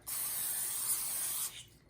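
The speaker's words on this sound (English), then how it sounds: "spray this before I put it in" Cooking spray hisses from a can onto a pie pan in one continuous close burst lasting about a second and a half, then cuts off.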